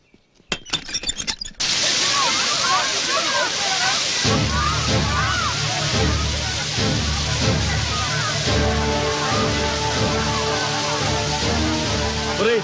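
A water cannon blasts protesters at a demonstration: a loud, continuous rushing spray of water fills the scene, with agitated voices and crowd noise underneath.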